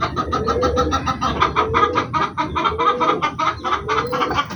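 Caged chickens clucking close by, a steady run of rapid, rhythmic clucks and short calls overlapping throughout with no voices.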